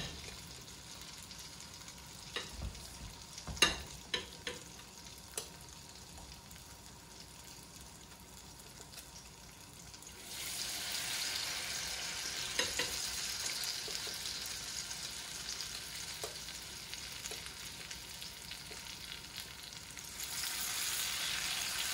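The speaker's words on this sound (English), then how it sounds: "the water inside of this batter is steaming out and essentially cooking these black eyed peas" Black-eyed pea batter fries in hot oil with a steady hiss, a few clinks of utensils early on, then the sizzle swells louder and stays constant.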